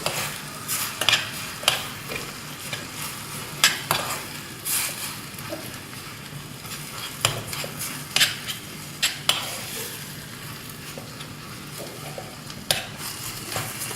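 Fish masala with coriander and chili powder stirred in a pan for Kerala-style grilled fish: repeated close scraping and clinking strokes at an uneven rhythm over a faint steady sizzle, with no talking.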